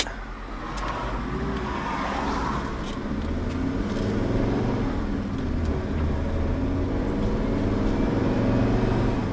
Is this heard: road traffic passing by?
yes